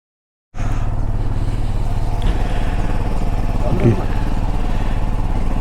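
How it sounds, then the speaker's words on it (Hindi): A motorcycle engine idles after a cold start outside a hotel parking lot, a steady loud close thrum that kicks in abruptly and holds evenly, with a person talking briefly over it. "कर लिया बाइक, अभी थोड़ा सा स्टार्ट होने रहने देता हूँ।"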